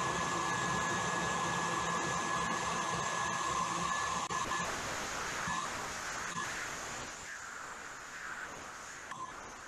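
An electric hand whisk beats egg whites for meringue toward stiff peaks, a steady close motor whine with a whirring wash that holds throughout and eases slightly in the second half.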